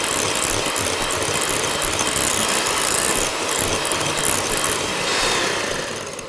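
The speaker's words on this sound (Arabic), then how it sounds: "نعلي بقى السرعه، كل ما تضرب كل ما تنفش معاكي اكتر" An electric mixer runs at high speed beating cream for a strawberry tiramisu, producing a loud, constant whirring motor drone with a rattling edge that tapers off slightly at the end.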